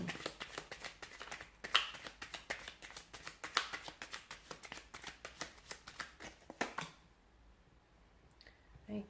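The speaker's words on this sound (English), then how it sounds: "let's give the cards a shuffle" A deck of tarot cards is shuffled up close in a rapid series of crisp riffles and flicks that repeat rhythmically for several seconds, then stop into near quiet with a final soft tap.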